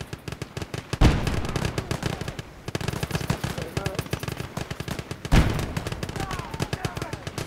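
Machine gun fire in the video game Gates of Hell Ostfront rattles in rapid bursts, with loud blasts at intervals and players talking over it.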